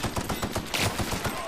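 Rapid bursts of gunfire from the video game The Outer Worlds, a steady rattling string of repeated shots at close range, with a voice speaking faintly beneath.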